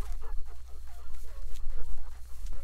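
A bird dog panting close to the microphone, quick rhythmic breaths over a low rumbling background, with a couple of faint whimpers and no talking.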